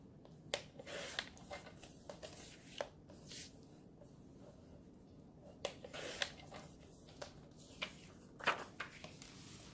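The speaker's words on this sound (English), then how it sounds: "So I'm going to cut this and make this a pocket." Paper being cut with scissors to make a pocket for a teddy bear junk journal page, heard as scattered crisp snips and rustles with pauses between them, close and fairly quiet, with no talking.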